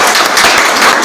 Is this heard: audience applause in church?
yes